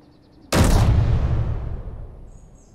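A big turret gun fires once in the naval battle game Warfare 2 Broadside, a loud, sudden boom that stays heavy for a moment, then rolls off into a long fading rumble with no talk.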